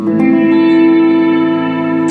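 A sustained guitar chord played through a reverb pedal rings out heavily drenched in reverb, its tone hanging and slowly decaying in a wide, echoing wash.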